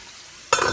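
Bell peppers drop into a pan of cooking pork and start to sizzle: a short, quiet stretch, then a sudden loud burst of hissing frying noise that keeps going to the end.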